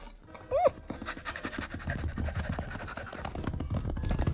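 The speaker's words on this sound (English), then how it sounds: "Look, that collie dog over there." A collie dog pants in quick, breathy bursts, fairly faint and lo-fi, with a short louder noise early on and soft scuffing in the background.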